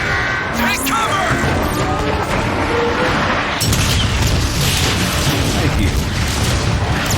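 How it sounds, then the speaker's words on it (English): Heavy artillery explosions and booming impacts roll continuously through a battle in the video game Transformers: Fall of Cybertron, loud and dense, with a voice talking briefly over the chaos. "Optimus, you must manually mark the marauder for the artillery."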